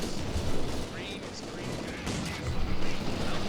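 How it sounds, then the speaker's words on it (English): Anti-infantry strafing gunfire in a strategy video game: rapid bursts of automatic fire and distant booms rolling through a busy battlefield mix, heard under a commentator's voice. "Nice anti-infantry strafe there."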